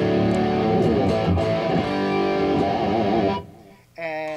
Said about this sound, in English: I have an overdrive sound which sounds something like this